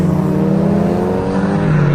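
A Volkswagen Golf R engine revs loudly and close, a deep droning roar with rising and falling pitch.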